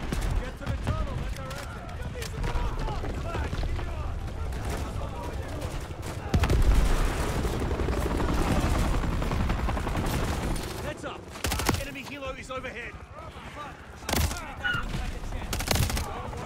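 Gunfire in the video game Operation 627: dense bursts of automatic fire and shots that run almost continuously, loud and close, with brief lulls, and a voice talking over part of it.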